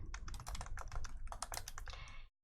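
Rapid, steady typing on a computer keyboard, close and fairly loud, a dense run of clicking keystrokes that stops abruptly at the end.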